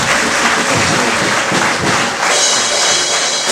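A wedding congregation bursts into loud, dense applause, many hands clapping at once in a continuous roar that fills the room for a few seconds.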